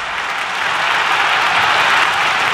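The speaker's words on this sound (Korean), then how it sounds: "수만 명이 일제히 기립해 덩샤오핑을 향해 뜨거운 박수를 보냈다고 보도했고" Tens of thousands of people applaud Deng Xiaoping in a large gymnasium in 1977, a dense, unbroken roar of clapping that holds steady and loud throughout.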